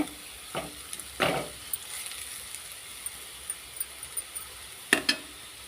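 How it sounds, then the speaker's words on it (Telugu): Carrot curry being stirred in a pan after ginger and turmeric go in, with soft sizzling underneath and a few scattered scraping strokes and light clinks of the spoon, close-up and alone without any talking. "ఈ విధంగా అల్లము పసుపు అయితే వేసేస్తున్నాను ఇలా కలుపుకున్నాక"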